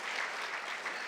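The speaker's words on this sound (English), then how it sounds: "I'll take that round of applause too." Audience applause from a crowd at a live discussion event, a brief, dense burst of clapping heard close and steady throughout.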